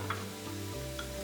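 Peppers tossed into a hot pan for shakshuka, a steady close sizzle of frying over a low humming tone, brief and without speech.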